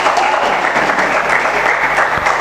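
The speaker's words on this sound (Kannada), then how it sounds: "ಕುಮಾರಿ ಅದಿತಿ ವಿಟ್ಲ ಮತ್ತು ಜೋರಾದ ಚಪ್ಪಾಳೆ" An audience at a cultural awards ceremony claps loudly for an award recipient, a dense, sustained burst of applause at a steady level with no voices.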